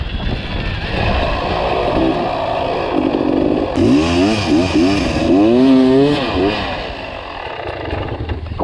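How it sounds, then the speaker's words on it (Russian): Mopeds ride in with buzzing small engines that rise and fall as they rev. The whine swells and wavers near the middle, and voices talk over it. "Толик, пацаны его на мопедах заезжают."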